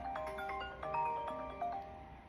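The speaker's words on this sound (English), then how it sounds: "You know when you're doing something, that's when your phone rings." A mobile phone rings in a home kitchen, a faint melodic ringtone of several quick bright notes over roughly two seconds, with no talking.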